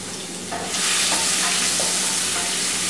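Ginger and chili fry in oil for semolina upma, a loud hiss that swells suddenly after a moment and then holds steady and close, with faint stirring and no talk.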